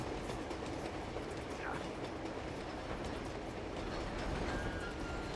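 A moving train in the video game Uncharted 2 rumbles continuously with dense clattering wheels and broadband rushing noise, loud and steady throughout without speech.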